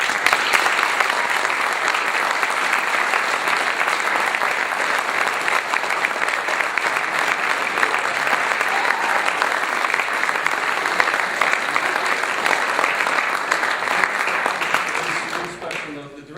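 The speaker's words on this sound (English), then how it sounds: "I could give them another round of applause." An audience applauds after a school drama performance of Twelve Angry Men, with steady, sustained clapping from many hands throughout that tapers off only at the very end.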